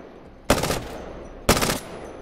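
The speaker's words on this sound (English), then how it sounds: "Now the Prowler is a 3-round burst SMG type" Prowler burst SMG firing in Apex Legends: two sharp, loud bursts about a second apart, each a quick rattle of rounds that drops off into a short fading tail before the next.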